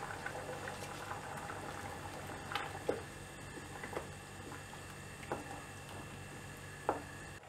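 Coconut paste curry, a spicy broad bean kuzhambu with vegetables, boiling in a pot, giving a soft steady bubbling simmer with a few louder pops and blips scattered throughout.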